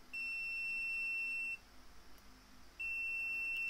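Two long, steady high-pitched electronic beeps from a digital multimeter in continuity mode, the first lasting about a second and a half, then a pause before the second. No voices.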